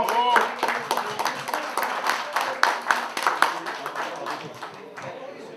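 An audience at the 2024 National Vétérans event in Chusclan-Laudun claps for the winners, a lively run of hand claps lasting several seconds, with some voices mixed in.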